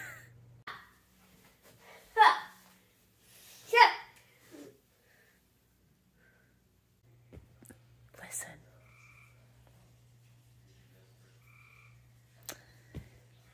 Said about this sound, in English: It's the sound of the tree frogs trying to mate in my pool.